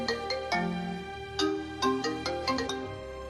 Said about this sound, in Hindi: थोड़ी देर बाद प्रथम का कॉल आता ह